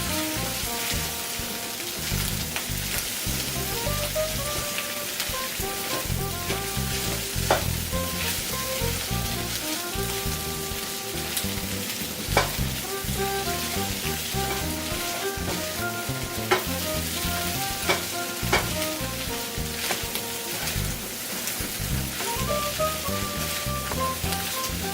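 Goya champuru, a bitter melon stir-fry, sizzles loudly in a hot pan. Rhythmic stirring scrapes and clacks sound through a steady, rain-like crackle across the whole stretch.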